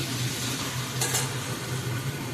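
Potato and egg stirred slowly in a pan for biryani, soft scraping over a low frying sizzle, close up, with one brief brighter scrape in the middle.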